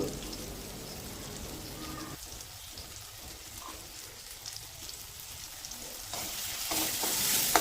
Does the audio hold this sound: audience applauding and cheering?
no